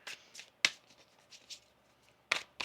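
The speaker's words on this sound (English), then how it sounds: "One more shuffle here." Tarot cards being shuffled by hand, a few sharp riffling bursts and soft slides spaced across a quiet stretch, close and fairly faint with no talking.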